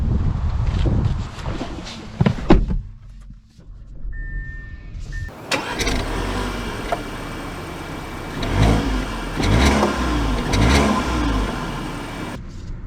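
2023 Audi A4 S Line 45 TFSI, door and interior clunks followed by a brief electric whir, then the engine starting and idling with a steady mid-pitched hum and some light revving, heard from inside the cabin.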